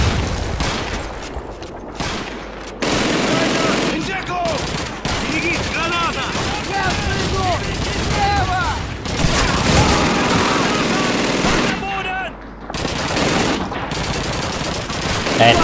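Sustained machine gun fire in the video game Call of Duty 2 rattles loudly in long continuous bursts with brief pauses, battle noise around it and voices shouting over it.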